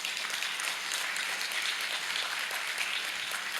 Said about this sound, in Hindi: ताली बजा के मुझे सूचित करिए।